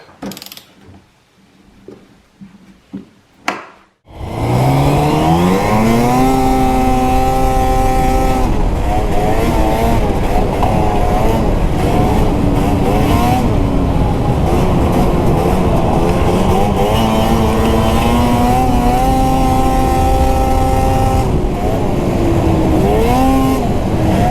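Arctic Cat ZR snowmobile on a trail with carbides running over rocks, a quiet idle giving way to a loud, sustained engine roar whose pitch rises and falls through the run, close to the rider.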